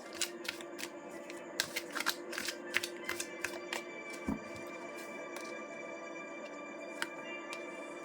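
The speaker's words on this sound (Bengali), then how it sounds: "আরও বেশ কয়েকটা কার্ড নেব।" Tarot cards being handled, shuffled and drawn from a deck, a run of soft papery snaps and slides, close and fairly quiet, with short flicks clustered in the first few seconds and occasional single taps later.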